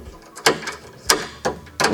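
A rifle bolt is worked against a headspace gauge, giving a few sharp metallic clicks and clacks at irregular intervals, close up and alone.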